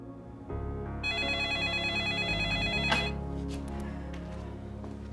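A telephone ring sounds under a backing music score, its bright repeating electronic trill entering after about a second and carrying on steadily, moderately loud, with no voices.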